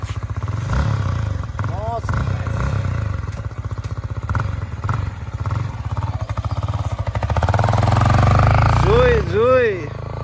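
A 2023 Yamaha R15M motorcycle, the top model, is ridden, its engine droning steadily and rising in pitch as it revs up through the gears; a rider talks over the close, loud engine throughout.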